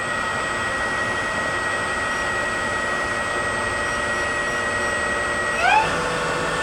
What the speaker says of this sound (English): That's 1050 RPM. Machine runs very, very well.